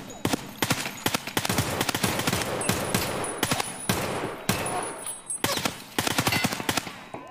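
Rapid bursts of automatic gunfire from the video game Escape From Tarkov, dense sharp shots in quick succession through most of the stretch with brief pauses, loud and close.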